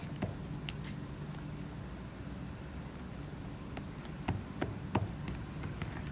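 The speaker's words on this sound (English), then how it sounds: "I just like putting the scissors in the slime." Scissors poked repeatedly into stretchy slime, giving soft sticky squelches and faint clicks at irregular intervals over a low steady background, fairly quiet and close.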